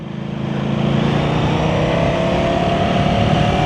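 A new Ducati Panigale motorcycle on fresh tyres being ridden, its engine a steady loud drone that swells over the first half second and then holds an even, sustained tone throughout.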